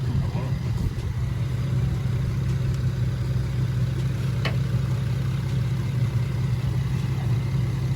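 A Nissan 350Z engine idles steadily nearby with a low, even rumble, while people talk faintly over it.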